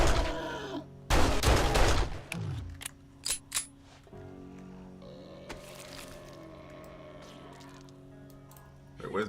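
Gunfire in the survival game 7 Days to Die, a loud rattling burst of shots near the start followed by a few scattered single pops, set over low ambient hum with a person talking.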